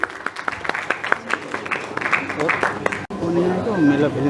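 Applause from the audience at a Bollywood awards ceremony, with a burst of separate claps and cheering in the first three seconds, then a more diffuse, busier crowd sound with voices mixed in.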